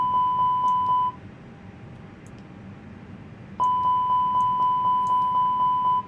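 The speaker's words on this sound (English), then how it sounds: "Now we're going to do the fire alarm for the engines." An engine fire alarm test in a flight simulator cockpit sounds a rapid, evenly pulsed electronic beeping that runs for about a second, pauses, then resumes steadily, clear and close over a low cabin hum.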